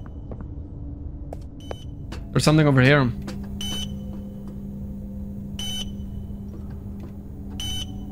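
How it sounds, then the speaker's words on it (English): Inside the video game Poppy Playtime Chapter 2, a faint electronic beep repeats at intervals under a player's talk, with a louder warbling tone sounding briefly in the middle. "Why is there a beeping sound?"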